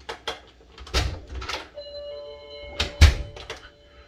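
An Amazon Ring Alarm 2nd Gen base station sounds a short tonal chime when a door sensor opens, a clear ringing tone held briefly amid nearby door thuds and handling knocks.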